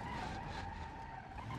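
A car spins its wheels in the BeamNG Drive driving game during a police chase, giving a steady, loud tire-screeching skid with engine drone that holds without a break for a moment, no talk over it.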